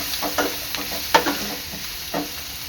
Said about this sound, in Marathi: कांदा चांगला शिजत आलेला आहे